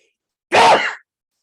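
A single sharp human sneeze, loud and close, lasting about half a second amid otherwise quiet surroundings.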